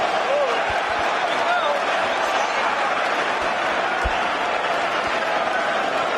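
A boxing arena crowd before a fight roars in a constant loud wash of voices and cheering, with a few thuds and bangs standing out and an announcer talking over it.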